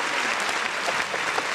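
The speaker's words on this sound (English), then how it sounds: "We got to give you a round of applause" A crowd claps in a short burst of steady, dense applause during a live sports talk show.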